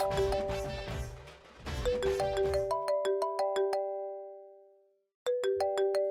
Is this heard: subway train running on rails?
no